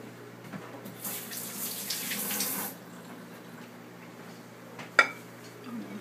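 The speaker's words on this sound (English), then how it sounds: "Let me rinse my hands real quick." Hands rinsed under a running kitchen tap while cooking slow-cooked Cuban pork shoulder, a steady close hiss of water for a couple of seconds, then quieter room sound with a single sharp clink near the end.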